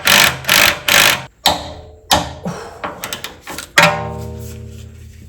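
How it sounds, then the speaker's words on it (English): A hand ratchet wrench works a camber arm knuckle bolt on a car suspension fitted with Koni Special Active FSD dampers, giving bursts of close, loud ratcheting clicks, then several sharper clunks and a rising metallic ring, no talk. "so it's easier if we torque it from the front"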